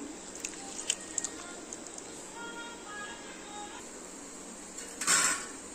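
Hands knead a soft, wet mixture of tamarind, onion, dried red chillies and vegetables for Tirunelveli tamarind rasam: faint, irregular squishing with a louder squelch near the end.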